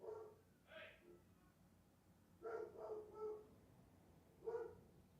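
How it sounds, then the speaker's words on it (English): A dog barks in three short bursts spaced a couple of seconds apart, quiet and somewhat distant, with no talking over it. "I'm waiting for the dog to stop barking."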